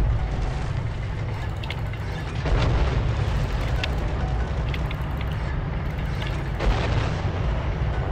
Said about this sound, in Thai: เรียบร้อยครับรถถังระเบิด